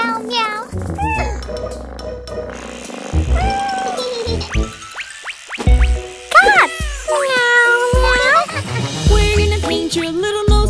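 A voice playfully imitates a cat, repeating drawn-out, rising and falling meows in a sing-song pattern, close and fairly loud.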